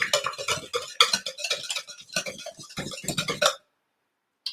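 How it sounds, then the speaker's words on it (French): A spoon stirs lemon cake batter in a bowl, giving irregular scraping and clinking strokes that run steadily for several seconds, then stop into near silence. "Vraiment bien mélanger pour quelques minutes"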